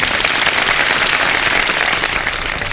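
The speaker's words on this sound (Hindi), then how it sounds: "तालियों में मजा नहीं आ रहा मुझे, प्लीज" A studio audience at a live Ramadan iftar television show gives a loud, steady, dense round of applause that carries on evenly without a break, with no talking heard.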